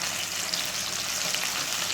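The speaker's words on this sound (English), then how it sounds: "So now I am gonna saute onion and pepper, garlic and sweet pepper." Onion, pepper, garlic and sweet pepper sauté in a pan for Jamaican corned beef and spaghetti, giving a dense, even, continuous sizzle close up.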